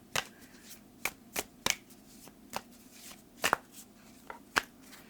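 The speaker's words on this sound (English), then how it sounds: "So let's pull your rune card." Tarot-style rune cards being shuffled by hand, a series of crisp riffling snaps and flutters spaced irregularly over a few seconds, close and fairly quiet with no talking.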